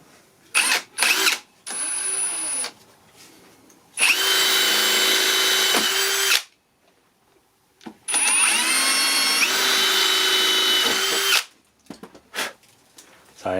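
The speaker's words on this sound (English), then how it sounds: "Take a drill" Power drill boring into the mounting of a glass-fusing kiln's control box during a DIY build, two long steady whining runs of a few seconds each, loud and close, separated by short knocks and handling noises.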